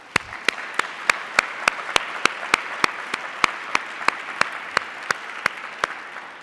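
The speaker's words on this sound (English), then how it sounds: "Please help me give them a round of applause." At an EcoCity Builders event, the audience applauds the board members: a soft bed of clapping with one nearby pair of hands striking sharply in a steady, even rhythm, about three claps per second.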